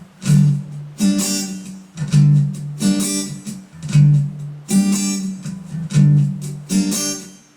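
Guitar strummed in a steady rhythmic pattern, bright ringing strokes alternating with short muted, choked hits, played close and alone.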